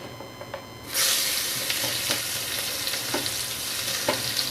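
Onions dropped into hot oil where a fish head and fish piece, Labeo bata, are already frying with turmeric set off a loud burst of sizzling. A steady crackle follows, with a few sharp clinks of a stirring spoon.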